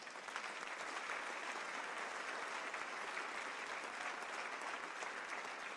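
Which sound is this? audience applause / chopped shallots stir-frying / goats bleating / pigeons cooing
audience applause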